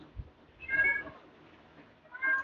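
A cat meows twice, the two cries separated by a short pause, close and fairly loud against a quiet room.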